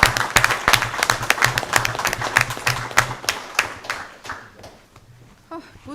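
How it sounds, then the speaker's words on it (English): Audience applause at a school board meeting, a brief burst of clapping that is loud at first and then thins out and fades over a few seconds. "let's give their families a quick round of applause too"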